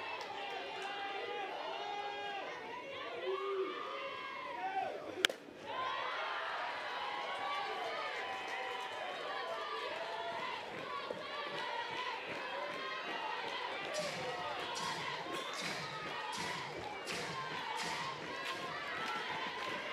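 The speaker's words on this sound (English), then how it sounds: "Hasn't changed the noise level of this crowd" Steady crowd noise at a Clemson vs South Carolina Upstate college softball game, a continuous din of chatter and cheering with a sharp thump near the middle and rising shouts later on.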